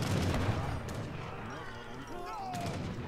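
Cannon and gunfire battle in Age of Empires III, a dense, continuous din of booming artillery and crackling shots filling the whole stretch, loud and steady with a slight dip midway, and no voices.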